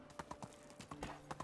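Donkey hooves clip-clopping in the Medieval Dynasty video game while pulling a log cart, a quiet, fairly regular sequence of hollow knocks with no talk.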